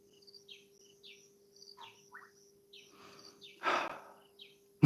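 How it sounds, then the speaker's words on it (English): Crickets chirping outdoors, short faint repeated chirps scattered over a steady high tone, with a brief louder rustle near the end; no talking. "How about those crickets and"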